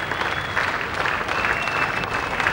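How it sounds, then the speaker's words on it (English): A cricket crowd at a Test ground applauds Sunil Gavaskar reaching his 9,000th Test run, a steady wash of distant clapping sustained throughout with no pause. "he's getting a round of applause"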